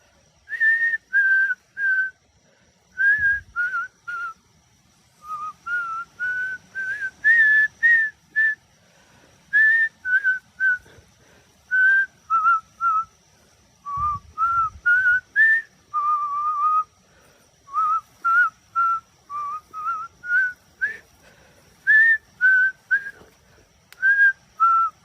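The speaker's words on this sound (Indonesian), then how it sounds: "Gua coba bersiul ya." A person whistles outdoors at night in the Alas Rawung forest, many short melodic phrases repeated with brief pauses over about twenty-five seconds, clear and close with a couple of low thumps in between.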